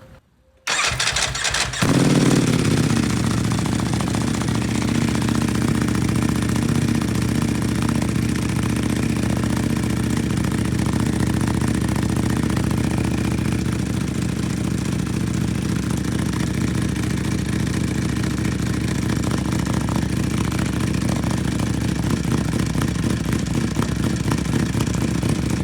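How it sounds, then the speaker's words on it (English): A Ducati-style V4R motorcycle engine with an Akrapovic exhaust starts up and settles into a loud, steady idle while warming, a continuous deep rumble with no talk over it. "We're gonna let it like warm up, see if it idles down a little bit"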